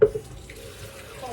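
Cold water runs from a kitchen tap into a big jug, covering chicken and leftovers for stock; a steady, close, moderately quiet stream with a brief louder splash at the start, no talking.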